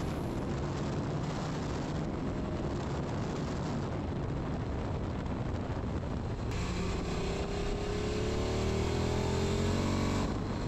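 KTM RC8 sport motorcycle lapping the Lédenon race circuit on a partly damp track, a steady close engine roar mixed with heavy wind buffeting, rising pitch sweeps as it accelerates in the final seconds.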